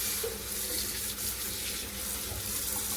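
Cold tap water runs steadily over kale leaves being washed one by one in a sink, a continuous close splashing hiss with no voices.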